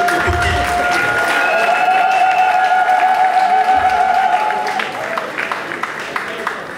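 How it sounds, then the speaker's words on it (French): Sustained applause filling a hall at a dance evening, steady and fairly loud, tapering off toward the end, with a voice speaking over it and a few sustained tones above. "avoir les applaudissements de la salle pour le travail que vous accomplissez"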